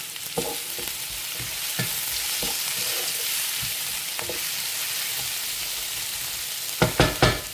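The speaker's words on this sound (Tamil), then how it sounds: "வெங்காயம் உப்பு சேர்க்குறதுனால வெங்காயம் கொஞ்சம் சீக்கிரம் வதங்கிடும்" Onions sautéing with salt in a pan for biryani, a constant sizzle under occasional stirring scrapes, ending in a few sharp clanks of the spoon, close and steady, no talking.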